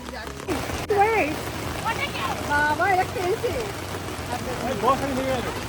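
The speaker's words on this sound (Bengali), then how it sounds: "প্রচণ্ড বৃষ্টি হচ্ছে আর এগোনো যাচ্ছে না, অসম্ভব বৃষ্টি।" Heavy rain pours down on an apple farm, a steady broadband hiss that runs the whole time while voices talk over it.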